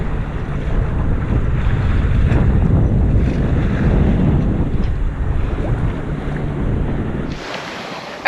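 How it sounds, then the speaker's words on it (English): Steady wind rushes over a sailboat at sea off Moorea in the Society Islands, a loud continuous roar with water wash beneath, ending abruptly. "Really nice breeze is filling in."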